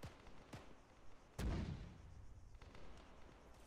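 Artillery firing in the combat video game TSB: a few muffled booms, one heavier blast standing out, distant and fairly faint against a low rumbling background.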